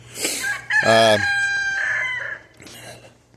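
A rooster crows loudly and close by, followed by clucking hens, with faint farmyard background noise.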